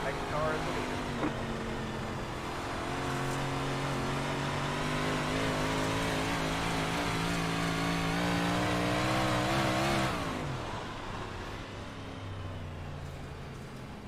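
A dirt track race car leading a Super Late Model or Big Block Modified race roars past, its engine rising and then falling away sharply after about ten seconds, with a quieter engine drone continuing under steady background noise.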